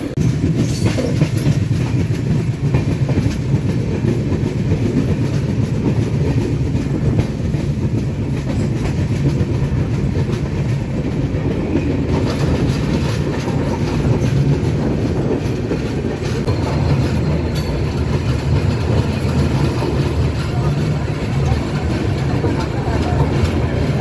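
New Tinsukia–Tambaram Express rolls into Rangiya Junction with a loud, continuous rumble and rhythmic wheel clatter heard from onboard, a voice occasionally speaking under the noise.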